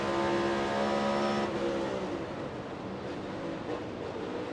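A NASCAR race car's engine roars loud and steady, then abruptly drops off as if nearly cutting out or slipping into neutral, leaving a rougher, fading engine rumble with no talk over it.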